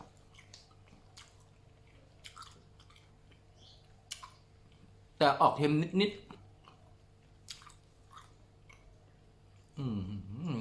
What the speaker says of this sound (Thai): เส้นบุกเคี้ยวเองกับ เคี้ยวแบบแปลกๆอ่ะ เหมือนกัดไม่ค่อยขาด ใช้เวลาเคี้ยวเยอะ